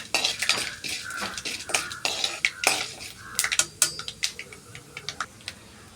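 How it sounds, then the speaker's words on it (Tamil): Mustard seeds, chana dal and urad dal splutter and crackle in hot oil in a pan, a string of sharp, irregular pops and bursts up close that thin out toward the end. "கடுகும் பொரியணும், அந்த கடலப்பருப்பும் உளுந்தும் வறுபட்டு வரணும்."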